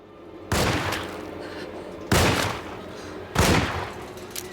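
Three loud, separate gunshots in the Alone in the Dark video game, each a sharp close blast with a short decaying tail, spaced about a second or more apart.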